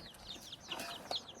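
Chickens being fed cluck softly at close range, a few short calls scattered through a brief stretch with no talking.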